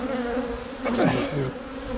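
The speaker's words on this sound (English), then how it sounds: "Look at all these bees on here." Honey bees swarm over an open hive frame during a honey harvest, a steady close buzzing drone that swells briefly in the middle of the stretch.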